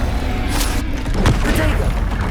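Booming fiery blasts from a Confringo spell in Hogwarts Legacy, a few loud bursts over dense game noise with a voice present.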